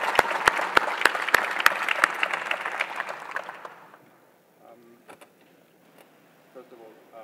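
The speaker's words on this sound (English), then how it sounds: "a big round of applause for you" An audience applauds steadily at a plenary session of The Union 2016 conference, then the clapping fades out around midway, leaving a quiet room with a few faint voices and small noises.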